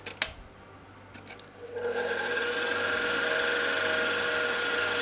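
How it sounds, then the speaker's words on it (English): A stand mixer with a whisk attachment beating two egg whites on high: a couple of light clinks, then a steady, even whirring hum that starts up and holds at constant loudness. "We're going to beat these on high."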